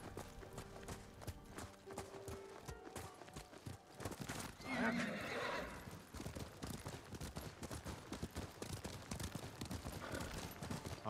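Horses in stalls in the Ghost of Tsushima video game nicker and whinny among hoof clip-clops, with one louder neigh partway through. Game ambience and faint background sounds run underneath, all at low level.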